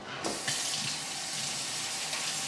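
Rice being rinsed under a running kitchen sink tap, a steady hiss of flowing water splashing close by, starting abruptly and continuing without speech.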